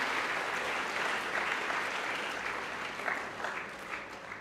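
Steady applause from an audience at a university orientation programme, a fairly distant, even wash of many hands clapping that gradually thins toward the end.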